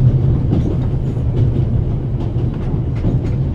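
A train in a video game rolls along the rails with a loud, continuous rumble and faint rhythmic clatter of wheels, steady throughout without voices.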